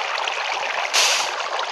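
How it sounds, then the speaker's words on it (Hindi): Water flowing in a Minecraft-style block-building game, a steady broadband rush and trickle that swells briefly louder near the middle, heard alone without talk. "अभी आएगा पानी"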